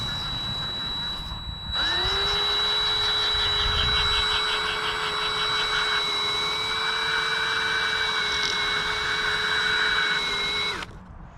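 Power sander fitted with Velcro pads working on the plastic speedometer gauge lens of a Yamaha Wave Raider, a steady loud whine starting sharply after a short pause and holding level before cutting off near the end.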